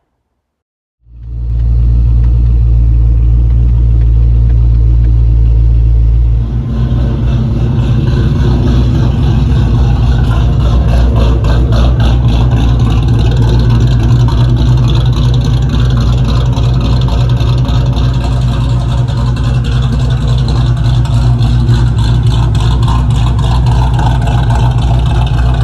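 A Ford Mustang Bullitt's engine starts up and settles into a loud, steady, deep rumble at close range. A brief surge follows a few seconds in, then a sustained throaty idle with no talking.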